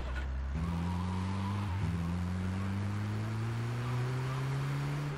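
Car engine in the video game GTA III, a steady droning hum that rises gradually in pitch as it accelerates, with a brief dip near the start as if shifting gear, continuous and close throughout.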